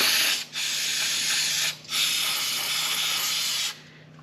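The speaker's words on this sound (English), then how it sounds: "Now let's get some brake clean" Three bursts of brake cleaner spray hissing close by on a Toyota/Lexus differential, each a second or more long with brief pauses between, the last the longest.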